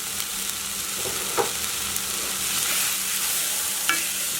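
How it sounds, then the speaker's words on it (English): Rinsed brown lentils stirred in a pot, with a continuous low sizzle and occasional scraping taps of the spoon, close and unaccompanied by speech. "Stir it all nicely to kind of incorporate"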